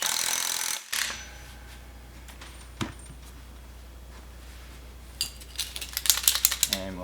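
A wrench snugging a nut on a bolt during turn-of-nut pre-installation verification, with a few metallic knocks and then a burst of quick ratcheting clicks, close up after a steady background hum.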